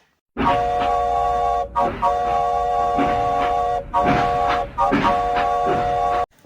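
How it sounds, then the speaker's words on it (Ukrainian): Train at a railway station sounding a multi-tone horn or whistle in three long blasts separated by short gaps, loud and near, with station bustle beneath. "Правильно він почув звук потяга."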